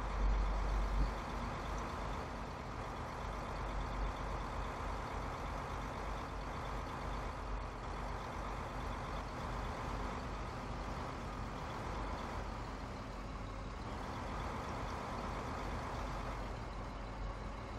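A farm vehicle in Farming Simulator 15 turns around on a road, giving a continuous, steady engine drone with broadband rumble that holds at a fairly even level throughout.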